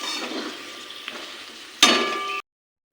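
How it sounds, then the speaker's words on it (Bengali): Potato pieces frying in hot oil in a pan while cooking chicken, giving a steady crackling sizzle that swells louder near the end and then cuts off abruptly. "আমি কিন্তু এখন তুলে নেব প্রত্যেকটা আলুকে একটু লাল লাল করে ভেজেছি"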